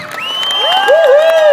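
A loud, lively crowd at a bike riding show cheers and whoops for a rider, with shrill rising cries and whistles over dense roaring cheering.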